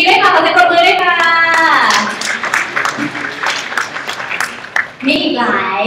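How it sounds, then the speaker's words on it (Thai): Audience applause bursts out in a Seagate-sponsored product quiz session for students, following someone speaking, a steady clatter of clapping hands fading and then briefly swelling again near the end. "ขอเสียงปรบมือด้วยค่ะ"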